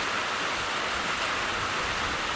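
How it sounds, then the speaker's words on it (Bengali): Heavy rain falls in a steady, even hiss with no breaks, fairly soft and diffuse, and no one speaks. "আজকে আমি দারুণ এক্সাইটেড, কারণ এত বৃষ্টি হচ্ছে"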